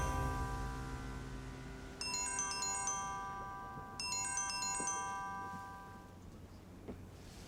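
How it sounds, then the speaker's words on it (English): A quiet electronic phone ringtone plays a melodic chime pattern, repeating about every two seconds and fading over a low background hum. "your phone is ringing."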